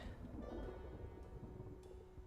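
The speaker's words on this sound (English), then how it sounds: "Oh no, it's a storm. I was wondering what that sound was." Steady rain with low thunder rumbles in a zombie survival video game, build 41, a continuous wash of storm noise under a faint tonal hum with no talking.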